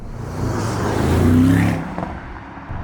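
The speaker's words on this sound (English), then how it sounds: "no other car in the world, in the modern world, sounds this good doing just 20-30 miles per hour." At a low 20-30 mph, the V8 exhaust of a Mercedes-AMG GT 55 coupe rises in a deep, throbbing burble, peaks, then eases off as the car moves by, close and steady with no voices.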